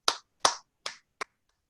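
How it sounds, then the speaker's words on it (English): Four sharp, isolated handclaps ring out at a Toastmasters club meeting, evenly spaced and close, the last one shorter, with nothing else heard around them. "Please welcome him by applauding"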